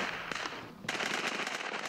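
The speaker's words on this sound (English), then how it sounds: "From next door, there's the sound of gunfire." Rapid bursts of distant gunfire heard from next door to a Russian TV station crackle in quick succession, muffled and faint, with a brief lull before another volley.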